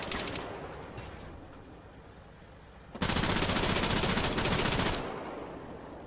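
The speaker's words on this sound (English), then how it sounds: "just trying to shoot him, but I can't really see him through the smoke." Video-game gunfire plays as a dense, continuous automatic burst of about two seconds over a loud, steady rumble of battle, with the noise stepping up sharply when the firing starts.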